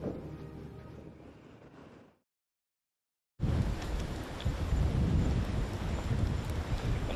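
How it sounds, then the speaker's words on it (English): Strong wind of about 50 knots buffets a headland campsite on Cape York, a rough roar of gusts against the microphone that drops out briefly, then returns louder and steady. "It's blowing about 50 knots. The wind's actually hammering through."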